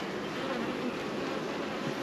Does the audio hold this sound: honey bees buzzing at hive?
yes